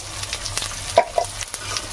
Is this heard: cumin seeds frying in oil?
yes